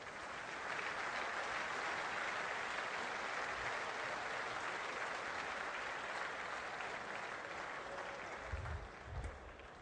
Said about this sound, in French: Messieurs les mineurs, vous êtes exceptionnels et on vous applaudit.